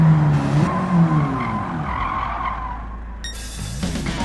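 Race car braking hard with tires skidding and squealing in Gran Turismo 7, a sustained screech over engine drone that fades before a brief second burst near the end.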